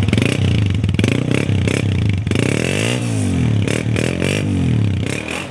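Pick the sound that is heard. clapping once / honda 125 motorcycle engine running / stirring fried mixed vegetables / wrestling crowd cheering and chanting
honda 125 motorcycle engine running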